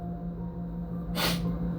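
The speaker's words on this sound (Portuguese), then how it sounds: "Vou espirrar." A single sharp sneeze bursts out over a steady low hum, brief and close, then the background settles again.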